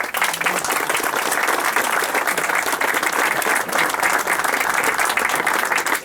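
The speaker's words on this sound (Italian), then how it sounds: "Fate un bel applauso" Steady, loud applause from an outdoor crowd at the inauguration of a railway underpass in Portogruaro, a dense even patter of many hands clapping without a break.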